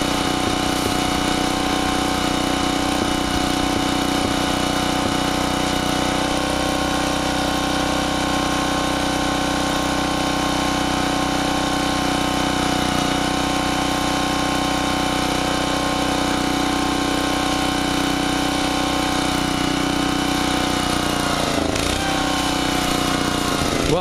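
Generac 750-watt portable generator engine running with the choke open: a loud, steady small-engine drone with a constant hum, close by, holding evenly with only slight wavering toward the end.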